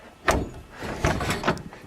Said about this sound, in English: Pop both back doors open.